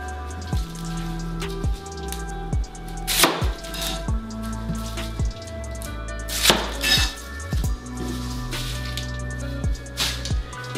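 A Cooking Guild cleaver chops through a Vidalia onion in a steady run of close, crisp knocks on the cutting board, some of them sharp, with no voice over the chopping.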